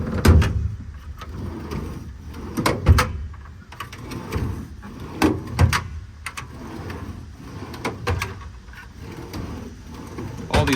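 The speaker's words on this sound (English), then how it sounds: "All these drawers slide super nicely." Adkins-built steel drawers in the compartments of a 2017 Hino 338 truck body roll open and shut repeatedly, each slide ending in a sharp clack or thump, with soft rolling rumbles between the impacts.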